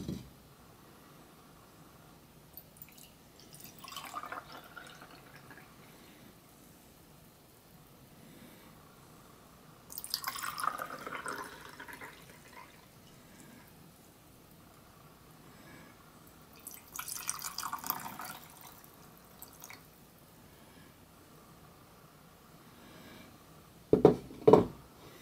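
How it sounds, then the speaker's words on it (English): Water poured from a pitcher into three beakers comes as three quiet, separate splashing pours several seconds apart, ending with a couple of sharp glassy clinks. "I'll fill all three beakers with the water."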